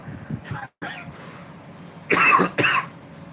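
A person with a cold coughs at close range: a short pair of coughs early on, a brief pause, then two louder, harsher coughs close together, with no speech.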